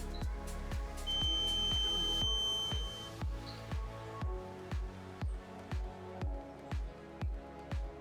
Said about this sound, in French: le niveau de sécurité est atteint, l'électrovanne se coupe